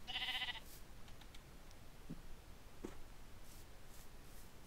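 Sheep bleating in Minecraft, a short bleat at the start above a low, steady game background, then a few faint clicks and thuds, with no talking.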